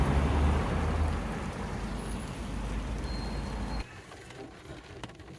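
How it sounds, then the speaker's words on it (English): Steady rain patters on the roof and windows of a parked car in a car park in Navenby, Lincolnshire, a dense continuous wash with a low rumble that suddenly drops much quieter near the end. "I'm just sat in the car now because it's raining"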